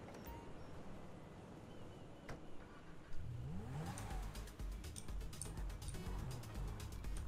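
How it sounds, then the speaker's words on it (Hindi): Supercar engine in GTA 5 revving and accelerating, its pitch sweeping upward with rising speed, fairly quiet at first and then louder and continuous in the second half over road noise. "ये वाली गाड़ी गाइस बहुत तेज़ी से भागती है"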